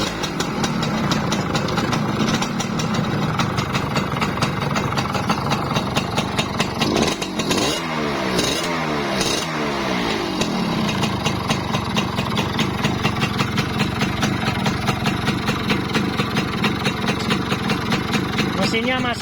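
An old Honda Win 100 motorcycle, just kick-started, idles in a steady mid-pitched chug throughout, with a brief burst of sharper revving or clatter around the middle; the engine runs alone without talk.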